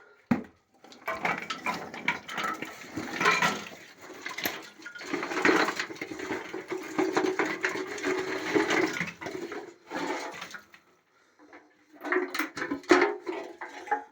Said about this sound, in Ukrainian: ось так сипемо сюди щіпу, яку маємо, додаємо тирси